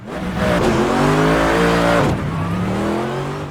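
Car engine revving loudly in a racing video game, rising and falling pitch through acceleration with a gear change midway and faint tire squeal, heard through a Rig 600 Pro HS headset.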